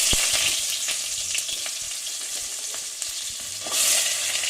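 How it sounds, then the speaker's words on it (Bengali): Drumstick (sajne) pieces frying in hot mustard oil in a kadai, a loud continuous close sizzle with a few sharp spatula taps and a brief swell of hissing near the end, no talk. "এবার আমি সজনে ডাঁটাগুলো ভেজে নিচ্ছি।"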